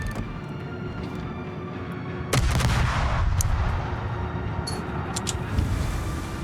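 Naval guns fire in a World of Warships battle, a heavy boom cutting through a constant low engine-and-sea rumble, followed by a few sharper cracks and impacts.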